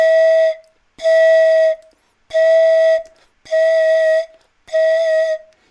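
A panflute is blown with vibrato produced by pressing in while blowing, giving five sustained, evenly spaced notes at the same pitch, each about half a second long with short gaps. The notes are close and loud, with no voices.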